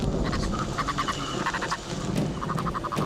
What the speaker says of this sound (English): purple frogs start calling from under the ground